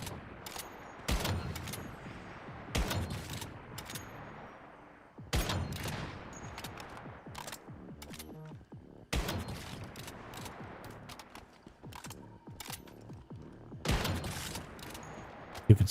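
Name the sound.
sniper gunfire in the video game Once Human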